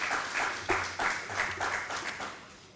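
A conference audience applauding a plenary speaker, a brief patter of scattered claps in a hall with uneven rhythm that thins out after a few seconds.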